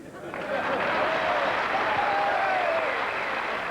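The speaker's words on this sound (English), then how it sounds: "Some very warm, affectionate applause there for Patricia Routledge." Warm, affectionate applause from a theatre audience, a dense sustained roar of clapping that swells quickly and holds steady, with a voice briefly audible underneath.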